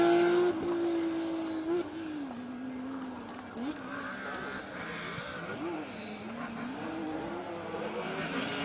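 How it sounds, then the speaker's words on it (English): A Porsche rally car races through a special stage of Rally Wervik 2022, its engine snarling and shifting pitch as it sweeps past with tire noise, while a commentator talks over the roar. "as this Porsche hoves into view"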